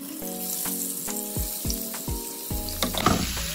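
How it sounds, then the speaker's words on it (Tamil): Marinated fish pieces frying in a generous amount of hot oil for masala fish, a steady bright sizzle with repeated clinks and taps of a utensil against the pan, close and continuous. "அதனால நான் கொஞ்சம் நிறையவே போட்டு நான் வறுக்கிறேன்."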